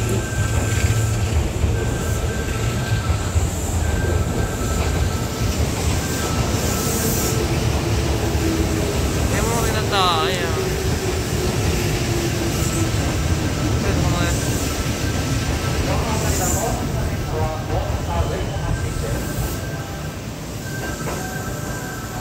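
A Kintetsu electric train rides along with a constant loud rumble and hum, faint squeals and whines rising over it, while a voice talks briefly underneath.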